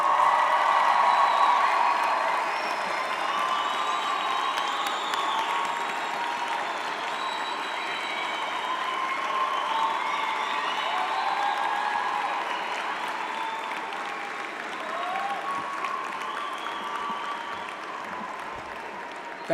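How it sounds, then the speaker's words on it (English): Sustained applause from a large audience at a university commencement ceremony, steady clapping with scattered cheers, filling the whole stretch at an even level before easing slightly near the end. "would you please stand and let us applaud you for your role"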